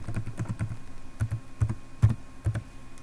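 Password typed on a computer keyboard, a quick run of close, crisp key clicks followed by slower, more spaced taps with a few firmer strikes, and no one talking.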